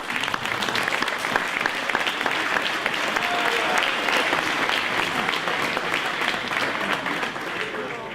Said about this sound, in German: diese tolle Leistung können wir auch einmal mit einem Applaus honorieren.